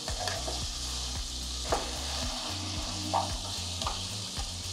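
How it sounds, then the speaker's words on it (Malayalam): Onions frying in a pan until soft and light brown for chicken roast, a steady sizzle with a low humming drone and a few soft stirring knocks, no talking. "നമ്മുടെ സവാള നന്നായിട്ടൊന്ന് സോഫ്റ്റായി കുറച്ച് ബ്രൗണിഷ് കളർ ആവുന്ന വരെ ഒന്ന് കുക്ക് ചെയ്തെടുക്കണം"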